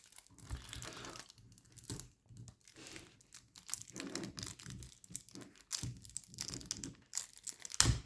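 Packaging for a Magic: The Gathering card box is opened with close, irregular crinkling and tearing of plastic and cardboard in short bursts, with no talking.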